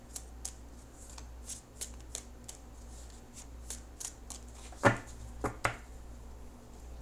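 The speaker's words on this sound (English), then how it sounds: "I'm going to shuffle for just a few more seconds." Tarot cards shuffled by hand at close range, a run of soft riffling taps followed by a few sharper snaps near the end, quiet room with no voices.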